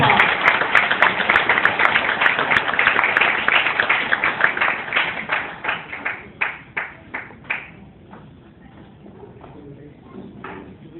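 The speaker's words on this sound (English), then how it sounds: "Please help me give him a round of applause." Audience applause at a high school graduation ceremony starts as a dense, loud wash of clapping and thins to scattered individual claps that fade away over several seconds.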